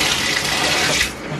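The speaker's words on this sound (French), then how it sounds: "Je m'en vais prendre ma petite douche chaude" A hot home shower runs steadily, a dense broadband hiss of water spray that holds close and even throughout, easing off slightly near the end.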